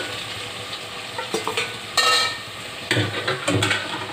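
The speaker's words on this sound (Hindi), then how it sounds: "अब इसके अंदर मैं ये चिकन डाल दूँगी" Chicken sizzles and fries in a hot pan with onions and ginger-garlic, with steady sizzle, a few sharp clanks of a spoon against the pan, and stirring scrapes in short bursts.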